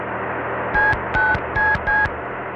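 Four short, loud telephone keypad tones beep in an even sequence over a steady dial-tone hum in a Brazilian animated cartoon.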